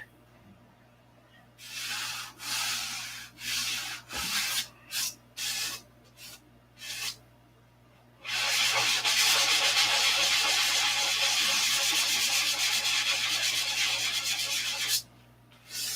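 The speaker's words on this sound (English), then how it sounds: "I'd go for it and sand the whole thing, color sand the whole thing" Sanding a painted surface by hand: several short rhythmic rubbing strokes, then a long steady stretch of continuous abrasive scraping, close and fairly loud.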